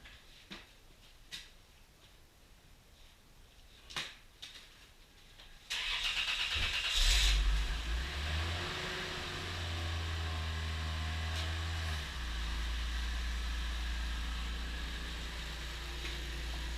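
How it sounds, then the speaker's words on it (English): A car in a garage cranks and fires up after a few scattered clicks and taps, then settles into a steady close idle with low rumbling revs as it is moved out. "we're gonna move this car out"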